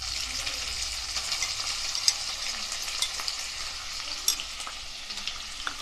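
Vegetables, garlic, ginger and spices fry in hot oil for a winter mixed-vegetable dish, giving a steady close sizzle with occasional sharp pops and spits and no voices.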